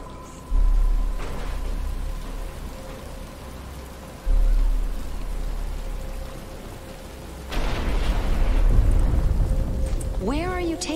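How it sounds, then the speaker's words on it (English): Rain starts in a Batman Arkham Asylum game scene as a steady broadband hiss of falling rain. It swells in a few stages over a low rumble and ends with a rising tonal sweep. "But it's starting to rain."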